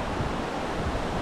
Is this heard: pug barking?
no